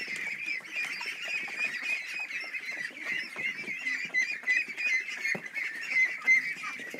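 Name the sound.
ducks in a barn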